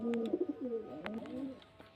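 Two yellow-eyed domestic pigeons held for sale coo nearby, a soft rolling series of throaty coos over a couple of seconds, with a faint click or two.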